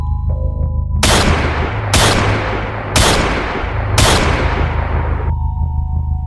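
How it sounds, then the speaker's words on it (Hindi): Four loud gunshots inside a school assembly hall boom at roughly one-second intervals, each cracking sharply and echoing away over a low background hum. "वो असेंबली हॉल के अंदर गया और गोलियां चलाने लगा।"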